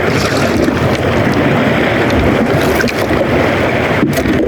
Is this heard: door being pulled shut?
no